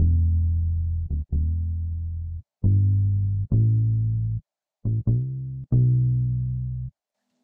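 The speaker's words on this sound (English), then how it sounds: "I have this bass, which sounds like this." Deep synth bass notes play in short phrases with sharp attacks and abrupt stops, separated by brief silences, dry and solo.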